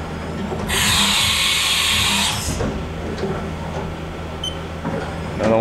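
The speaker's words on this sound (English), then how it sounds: "Do a tool change here." A Haas VF-5D/40 vertical machining center performs a tool change: a loud whirring mechanical burst lasting nearly two seconds, followed by quieter shop hum and small clicks.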